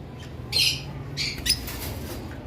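Lovebirds at a bird farm let out a few short, sharp squawks, two or three harsh calls standing out over a quiet background hum.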